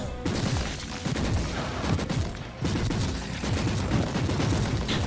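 Rapid gunfire in Warhammer 40,000: Inquisitor - Martyr during a retreat, a dense, continuous volley of shots and booms filling the whole stretch with brief dips in between.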